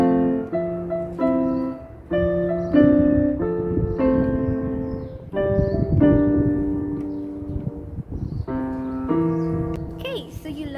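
Piano playing a song with both hands together, a bouncy chordal left hand under a repeated melodic right-hand line, close and moderately loud, played alone without talking.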